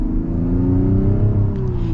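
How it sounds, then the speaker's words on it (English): A 2026 Mazda CX-90 engine pulls loudly and steadily from inside the cabin, a continuous droning hum with a tone that rises gradually as the vehicle accelerates. "It's kind of jumpy with the engine a little bit."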